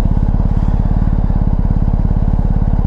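A BMW R1250GS motorcycle engine running close and loud, a steady throbbing rumble with a rapid regular pulse throughout, no voices.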